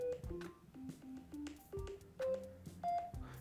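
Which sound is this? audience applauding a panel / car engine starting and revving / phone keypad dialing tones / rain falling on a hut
phone keypad dialing tones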